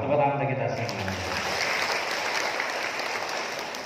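Posyandu health cadres in Pemalang Regency break into applause at the end of a spoken line, the clapping swelling as the voice stops and continuing as a dense, moderately loud patter.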